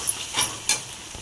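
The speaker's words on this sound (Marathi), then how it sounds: "आता लसूण परतू थोडासा लगेच परततो लसूण" Garlic sautés briefly in a pan while a prawn curry is being cooked, with a soft, faint sizzle broken by a few quick stirring scrapes.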